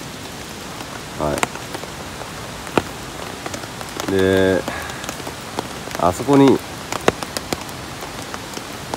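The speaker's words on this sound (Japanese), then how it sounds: "朝起きて一発目、やっぱり雨ですね。" Morning rain at a riverside campsite under a tarp, a steady broadband patter with occasional sharp drips close by, while someone talks briefly over it.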